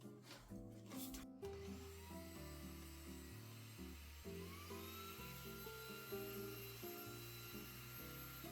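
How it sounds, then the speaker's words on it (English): A vacuum cleaner whines steadily while clearing grounds from the burr of a Niche Zero or Starseeker Edge 63 coffee grinder, its pitch shifting as the nozzle moves, close and continuous with a brief rattle at the start. "I'll quickly use the vacuum to take out that."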